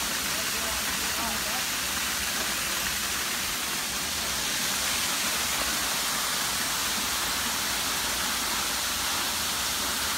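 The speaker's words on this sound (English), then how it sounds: "And then it's time for this mandatory slow-mo waterfall shot." A waterfall in Alabama's Sipsey Wilderness gives off a constant broadband rush of falling water, loud and even for the whole stretch, with no voices over it.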